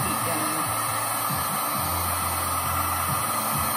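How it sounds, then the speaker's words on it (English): A heat gun blows across carved foam for a Halloween Soundwave costume build, a loud, steady whooshing roar that runs unbroken throughout. "the cool thing is you just take your heat gun to it"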